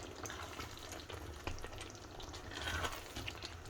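Shepherd's pie filling made with instant mash, simmering on low in a pan, a soft continuous bubbling sizzle that stays faint and even throughout, with a brief stir or clink midway.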